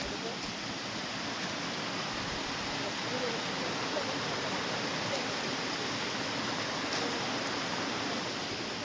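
A small waterfall at a hillside picnic spot gives a steady, broad rushing hiss of falling water, constant and fairly close, with no voices over it.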